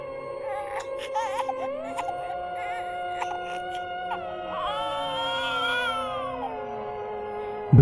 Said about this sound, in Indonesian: terdengarlah suara tangisan dari bayi